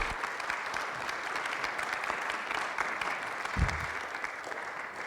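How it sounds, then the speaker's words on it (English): An audience at an estate planning workshop gives the expert panel a steady round of applause, dense and continuous clapping from a room full of people lasting throughout. "Can we give our experts a round of applause?"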